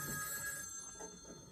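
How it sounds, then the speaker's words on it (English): A telephone bell rings steadily and fairly faintly in an indoor room, a continuous metallic trill with no voices over it. "the phone rings a lot and it gets pretty annoying after a while"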